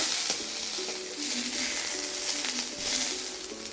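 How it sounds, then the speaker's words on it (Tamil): Chopped onions sauté in a pan for coriander mint chutney, a loud, steady sizzle with faint tonal clinks and scrapes underneath, and no voices. "இப்போ பார்த்திங்கன்னா வெங்காயம் நமக்கு வதங்கிருச்சு"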